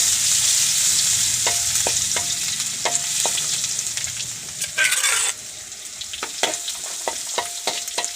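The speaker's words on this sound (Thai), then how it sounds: "น้ำมันร้อนแล้วก็ใส่กระเทียม เจียวกระเทียมครับ" Garlic fries in hot oil outdoors, a steady crackling sizzle running throughout with repeated sharp clicks of a utensil stirring and scraping the pan, and a brief louder burst of hiss midway.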